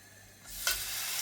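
Carne asada marinated in olive oil hits a smoking-hot non-stick pan, bursting into a sharp, bright sizzle after a quiet moment and settling into steady, close frying.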